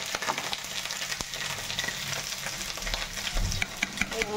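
Cauliflower fries in a pan with a soft, continuous sizzle, broken by occasional clinks and scrapes of stirring close by.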